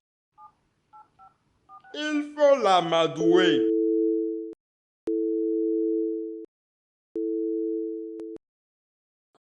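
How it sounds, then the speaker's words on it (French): A telephone is dialed with a quick run of faint touch-tone beeps, then someone speaks briefly before three long, steady line tones sound in turn with short gaps between them, in an animated African cartoon. "Prends le téléphone et appelle-le."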